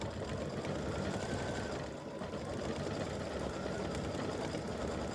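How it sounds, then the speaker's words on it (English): An embroidery sewing machine stitches white stitching onto appliqué footballs on a turkey quilt block, a faint, steady buzzing hum that runs continuously without pause. "it's going to go through each football and stitch the white stitching for the football"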